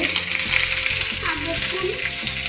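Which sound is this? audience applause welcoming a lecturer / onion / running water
onion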